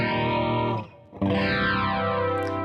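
A heavily processed electric guitar strums big chords with the fifth in the bass, two loud sustained strums with chorus and distortion and a swirling sweep through the ringing tone.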